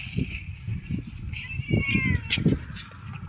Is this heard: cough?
no